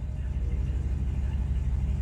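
A Chevrolet Suburban engine idling in gear while stationary, a steady, loud low rumble that holds constant throughout with no revving.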